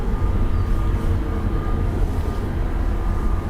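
A British Airways airliner departs Dublin Airport, heard as a steady, heavy low roar of jet engines, fairly loud and constant with no talk.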